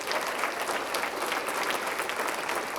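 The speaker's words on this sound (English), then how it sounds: "Let's give them all a big round of applause for their support." An annual meeting audience of the Coeur d'Alene economic development group breaks into sustained, dense clapping for event sponsors, a full room of applause holding steady throughout.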